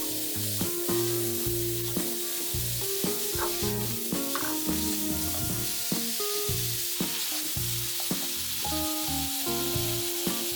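Steady, loud sizzling of thin-sliced pork and onions frying in a hot pan for pork bulgogi, with occasional scrapes and stirring clatter throughout.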